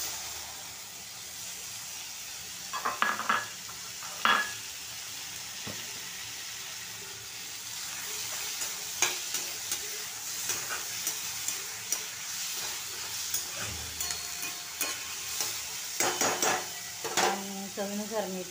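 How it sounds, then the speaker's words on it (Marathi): Tomatoes fry with roasted onion in a pan for tomato thecha, a soft sizzle under repeated scrapes and clinks of a spoon stirring against the metal, close and irregular. "आता आपण याच्यामध्ये ना हे टोमॅटो टाकून घेऊया"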